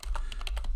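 Quick keystrokes on a computer keyboard, about seven or eight crisp taps in a fast, even run, close and clear with no talking.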